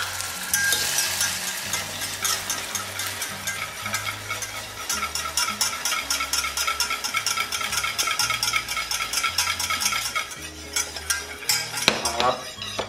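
Caramel cooking in a pan with butter and cream for a Valentine's Day cake dessert, a steady loud sizzle and bubbling with stirring and scraping of a utensil against the pan throughout.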